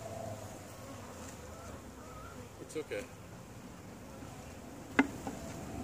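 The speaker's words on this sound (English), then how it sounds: "shake the bees into the box" A steady drone of many honeybees buzzing up close at a hive. A person speaks briefly, and a few soft knocks and a sharp click break through.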